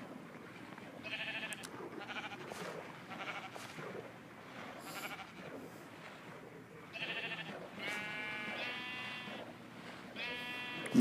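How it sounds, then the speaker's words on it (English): Sheep in the Minecraft video game bleating repeatedly, several short wavering calls close by over a low background, growing louder and more frequent toward the end. "I killed the sheep and I got a wool"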